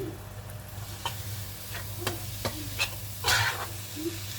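Food cooks gently with turmeric in a pan: a soft, steady sizzle under a low hum, with several light scraping and stirring clicks of a utensil against the pan.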